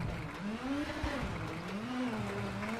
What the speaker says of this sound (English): The engine sounds aren't bad, but they're not the best either.